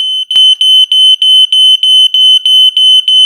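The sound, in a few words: smoke alarm set off by smoke machine haze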